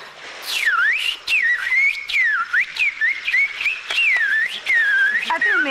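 A person whistles a lively, warbling tune alone, with quick gliding pitch swoops and short breaks between the phrases.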